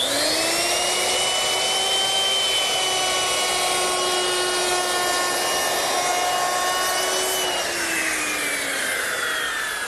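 A handheld router with a bearing-guided bit cuts a bullnose edge on a 1x8 wooden box lid, giving a loud, steady high-pitched whine for several seconds that dips slightly in pitch near the end. No one speaks.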